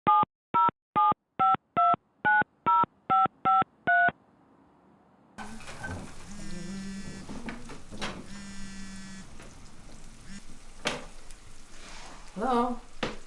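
A run of eight crisp telephone keypad DTMF tones, evenly spaced and loud, followed by a pause of faint hiss, then a ringing line with clicks and muffled noise.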